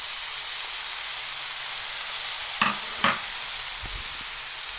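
Mushrooms frying in a pan with seasonings: a steady, loud sizzling hiss fills the whole stretch, broken by a couple of sharp scraping stirs in the middle and a soft knock near the end.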